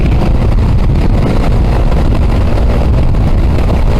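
A Voge SR4 scooter ridden at speed with traction control cutting its engine power: a constant loud engine and road roar under heavy wind buffeting on the microphone, with no clear separate cut-outs.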